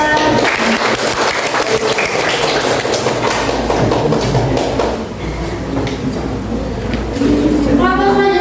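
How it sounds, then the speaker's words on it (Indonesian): A classroom audience claps for a presenting student group, steady lively applause filling most of the stretch before thinning, with a voice starting to speak near the end. "Beri tepuk tangan untuk kelompok 3"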